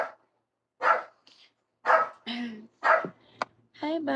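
A dog barks in short separate bursts at close range, several sharp yaps spaced through the moment, with someone talking around them during a morning livestream.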